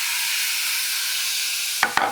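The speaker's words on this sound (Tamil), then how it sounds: "இப்போ இதில் நான் வந்து நறுக்கி வச்சுருக்கக்கூடிய தக்காளியை சேர்த்துட்றேன்" Chopped tomatoes go into a pan of potato fry, with a steady loud sizzle filling the whole clip and two quick sharp clatters near the end.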